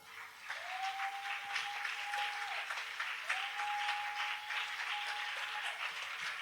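French church congregation applauding during a sermon: sustained, even clapping from many hands, moderately loud, with two long steady organ-like tones held underneath and no speech over it.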